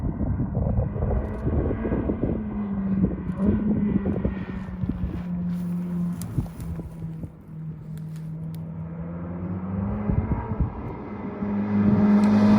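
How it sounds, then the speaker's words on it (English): A Ferrari F8 Spider's twin-turbo V8 drones steadily, a loud low engine tone that rises and falls slightly and swells toward the end, with no talk over it. "The V8 twin turbo has zero lag, it's super punchy"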